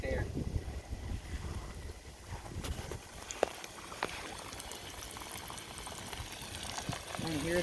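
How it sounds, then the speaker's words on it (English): Steady crackling and bubbling hiss of fish frying in hot oil in a skillet, continuous and fairly close, with scattered pops throughout. "I want to hear that sizzle."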